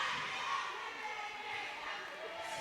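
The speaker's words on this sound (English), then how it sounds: "As you can hear, we've got a very vocal crowd here." Supporters at a university varsity women's netball match keep up a broad, steady crowd roar with shouts and cheers, heard from within the venue, while a commentator talks over it.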